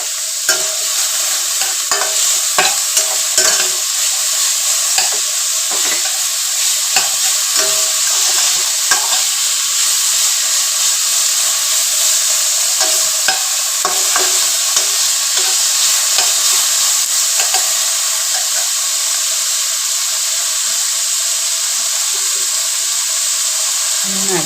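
Onion, capsicum, beans and carrot fry lightly in a pan with a continuous close sizzle, broken by frequent scraping and clattering strokes of stirring throughout.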